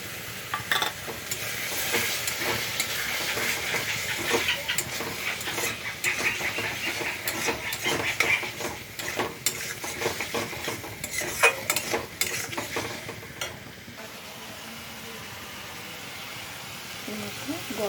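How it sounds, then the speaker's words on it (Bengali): Spices sautéing in oil in a pan for a young jackfruit curry, with a constant sizzle and frequent stirring scrapes while a person talks, the frying quieting near the end. "তো তেল দিয়ে দিয়েছি এবার আমি ধরে কষিয়ে নিতে হবে একটু যাতে মশলার গন্ধটা চলে যায়"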